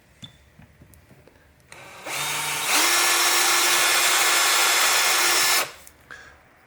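A power drill bores a hole for a pop rivet in a laptop hinge mount on an HP X360 14, whirring up to a loud steady whine for about three seconds before winding down, with faint handling noises before and after.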